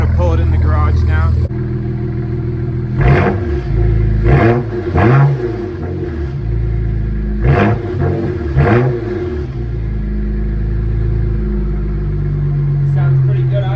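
A modified 500 hp BMW 335i with an N54 engine idling and then revving as it creeps into a garage, a steady low engine drone broken by several throttle blips, with someone talking over it.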